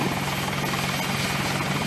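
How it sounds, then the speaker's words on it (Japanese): Helicopter of a special riot police unit in an anime, its dense rotor chop droning steadily and loudly overhead throughout, with no other sounds. "特別祭司機動隊のヘリ。"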